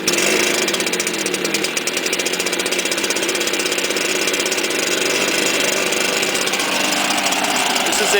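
A two-stroke string trimmer engine runs close and loud, a continuous buzzing drone with no audible pauses, the pull-start itself not evident.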